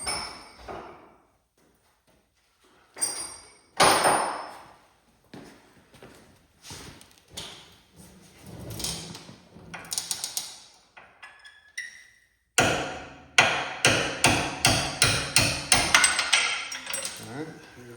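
A punch is hammered to free a stuck lower ball joint on a 1998 Ford Crown Victoria, giving sharp metallic strikes, sparse at first and then a rapid close run of ringing blows near the end.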